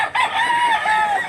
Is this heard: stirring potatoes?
no